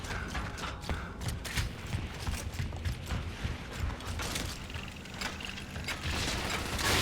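Torque Bow from Gears of War being drawn and fired in gameplay, a dense mechanical clatter of creaks and ratcheting layered over steady game noise with sharp bursts scattered throughout.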